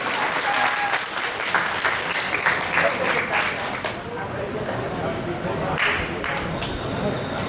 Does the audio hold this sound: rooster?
no